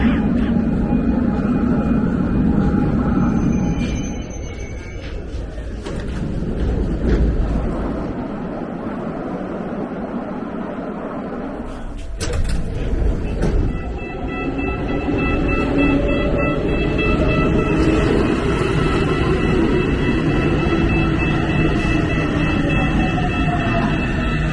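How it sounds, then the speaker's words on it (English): A Cairo Metro Line 2 train approaches inside the station with a deep rolling rumble, then a rising whine and layered mechanical hum as it pulls in, loud and near. "Must mean trains coming."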